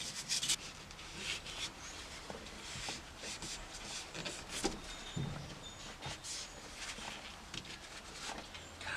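Abrasive scrubbing works grime off a surface while a 1965 Ford Galaxie is cleaned, an uneven close rubbing and scraping that continues throughout with small knocks and no speech.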